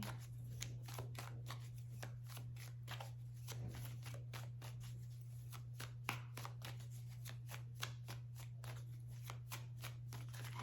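A makeshift deck of French keyword cards is shuffled by hand, a steady run of quick riffling flicks and soft card slaps, close and fairly quiet, with no talking.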